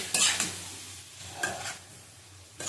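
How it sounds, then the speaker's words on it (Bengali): Mutton fries and sizzles in a pan while it is stirred, with a few scraping strokes over a steady low hiss, close and fairly quiet. "নুন দেওয়া আছে মাংসতে আবার একটু অল্প করে দিয়ে দিলাম ভালো করে আবার কষিয়ে নেবো"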